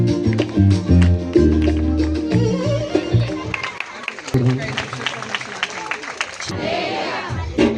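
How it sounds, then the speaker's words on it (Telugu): Applause rises at a church Christmas celebration, a crowd clapping steadily for several seconds amid background music and voices, with a brief sharp tap partway through. "చప్పట్లు కొడదాం"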